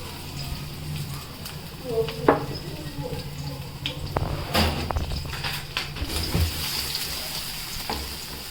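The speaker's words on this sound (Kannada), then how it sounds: "ಬೆಳ್ಳುಳ್ಳಿ ಹಾಕೊಂಡ್ರಿ" Garlic sizzles in hot oil in a home kitchen, giving a faint, steady crackle with a few clinks and knocks. People talk over it.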